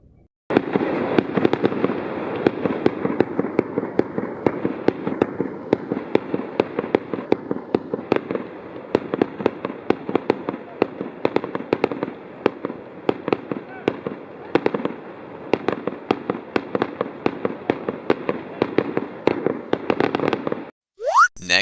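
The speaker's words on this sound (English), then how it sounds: "I guess everybody's out there watching fireworks." A winter fireworks display at Hunter Mountain Resort in the Catskill Mountains produces a dense, continuous barrage of rapid pops and crackles, heard at a moderate distance for about twenty seconds.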